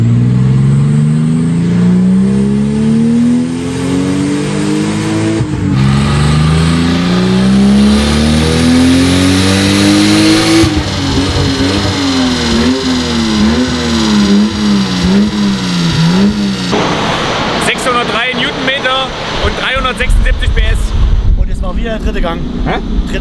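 Car engine revving hard on a dyno, repeatedly climbing through the revs and bouncing off the rev limiter, loud and close with a rising, wavering tone and sharp stutters near the end.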